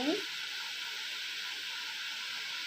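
Hot oil frying and splattering in a home pan while kids' snacks cook, a steady loud sizzle that hisses on without a break from start to finish.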